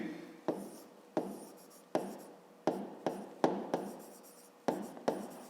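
Pen writing a math solution, seven or eight short scratchy strokes in an uneven rhythm, each starting sharply and trailing off; close and fairly quiet, with no voice over them.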